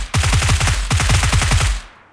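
Rapid bursts of video game gunfire sound in two tight volleys of about eight shots each, with a brief gap between them. The shots are loud, close, punchy and evenly spaced, and no one speaks.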